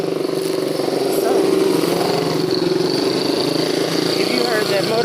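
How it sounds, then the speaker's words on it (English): A motorcycle, likely a motorcycle taxi, rides along a sidewalk nearby. Its buzzing engine runs steadily and swells slightly as it passes, under a speaking voice. "if you heard that motorcycle,"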